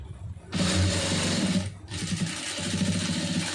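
Close up, a sewing machine stitches the side seam of a lined blouse in two rapid bursts of fast mechanical clatter, separated by a brief pause.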